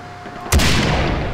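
Gunfire in the video game Far Cry 3: a loud rifle shot about midway with a lingering boom, then a second shot starting right at the end, over a quiet game background.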